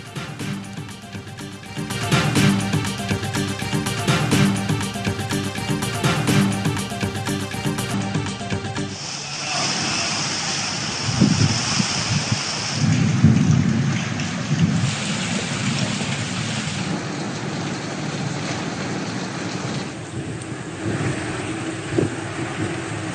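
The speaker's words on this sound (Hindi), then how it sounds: "लाहौर समेत पंजाब के कई शहरों में बारिश, गर्मी का जोर टूट गया।" Rain and thunder in Lahore, Punjab: after an opening stretch of dense, different noise, a steady wash of rainfall sets in with low thunder rumbles and gusty wind buffeting the microphone.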